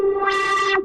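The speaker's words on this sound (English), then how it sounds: "it's fast distortion, distorting it a little bit, adding a little bit more crunch" A short, bright synth tone with a gritty, distorted edge holds one pitch for under a second, loud and alone.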